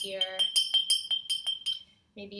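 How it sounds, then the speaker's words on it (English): A paintbrush taps repeatedly against a glass during salt painting, making a quick series of bright clinks that ring briefly. A voice is heard at the start and again at the end. "hear the paintbrush tapping against the glass"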